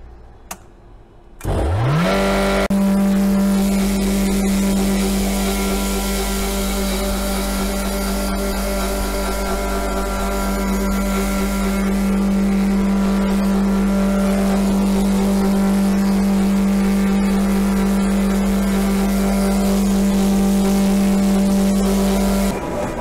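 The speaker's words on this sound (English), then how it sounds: "when I push this it will start pumping over" A brewery pump and mill at De Dolle Brouwers start with a rising whine, then settle into a loud, steady mechanical hum and drone that runs unbroken for over twenty seconds with no voices.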